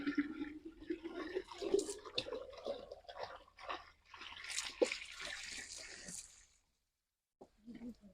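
Water gushes and splashes into containers being filled at a public drinking-water stand, a steady pouring rush for about six seconds that then stops, with voices faintly in the background.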